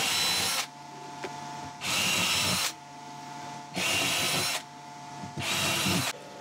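A power drill bores holes into a soft, delaminated motorhome floor in loud whirring bursts of about a second each, repeating four times with quieter gaps between.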